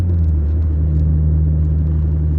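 A car engine revs past 3000 rpm on the road during a driving lesson, a steady loud hum with low rumble holding constant throughout, no voices over it.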